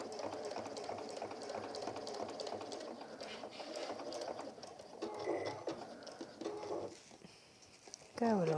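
A sewing machine top stitching down a gardener's kneeling cushion, running in a continuous quiet whirring chatter that shifts pace near the end, with a voice talking over it.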